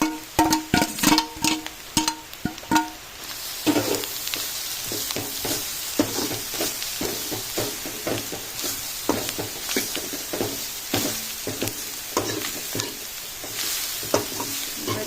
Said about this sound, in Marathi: हांव आतां सोय भितर घालता आणि बरी करून भाजून घेवपाची